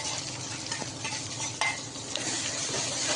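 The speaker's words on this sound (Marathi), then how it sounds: "आणि आता आपण पेस्ट केलेला मसाला टाकू" A ground masala paste for spicy urad dal fries and sizzles in a hot pan while a spoon stirs it, with a few scraping clicks against the metal and no speech.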